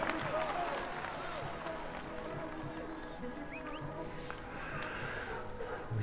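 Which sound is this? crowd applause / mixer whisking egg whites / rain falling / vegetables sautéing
crowd applause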